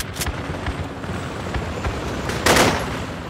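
Bursts of armored personnel carrier gunfire in the Project Reality mod on the Kokan map, with a rapid run of distant, rumbling cracks and one louder, closer blast near the end.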